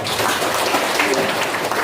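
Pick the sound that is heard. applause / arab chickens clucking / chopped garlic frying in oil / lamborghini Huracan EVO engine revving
applause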